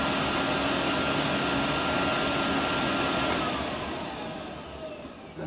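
Hoover Sensotronic System 1 vacuum cleaner motor running loud and steady at close range, a broadband whine that gradually drops in level toward the end as it winds down, with no talking.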